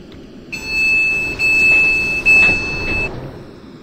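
A train in Train Simulator 2015 on a late run to Portsmouth Harbour gives off a steady rumble with a sustained high electronic tone, like a warning buzzer, that starts, briefly breaks twice and then stops.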